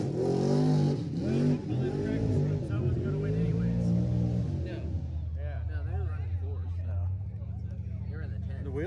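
A 440-swapped first-generation truck engine revs hard at a mud bog, its loud roar rising and falling in long pitch sweeps before settling into a lower idle, with voices talking over it.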